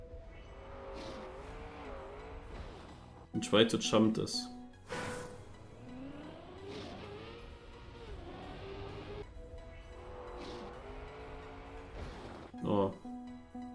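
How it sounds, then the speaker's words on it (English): The desert car in a racing video game whines along with an engine tone that rises and falls as it accelerates, plus a few loud bursts of impacts or landings, while someone talks throughout. "Now I take again the desert car"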